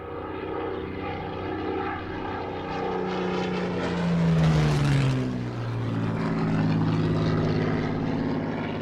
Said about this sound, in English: This Mark II example flew at the show courtesy of the BBMF.